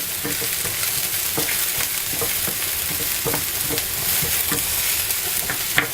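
Onions sizzle in a hot pan, a close, steady frying hiss broken by frequent light stirring clicks and scrapes, with no voices.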